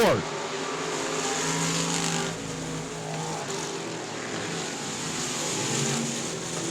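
A race car driving deep into a turn on an oval racetrack with tractor tires, a steady engine drone with a gear-shift sweep at the start, under continuous commentary.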